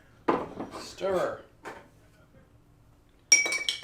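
A bourbon and cola cocktail gets stirred in a glass, giving a few light clinks and scrapes near the start and a brighter clink burst at the end, with a voice murmuring between them.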